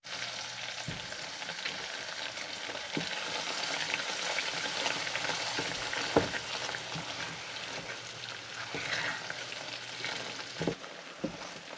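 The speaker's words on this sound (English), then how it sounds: "So we put stirring, and when you see the sugar melting, you don't have to stir" Sugar melting in a pan and being stirred while heading toward toffee, giving a quiet, steady frying hiss broken by scattered soft clicks and scrapes from the spoon, with no voices.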